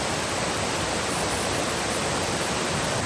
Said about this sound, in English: We've got this little waterfall off to the right, feeding into this one right here.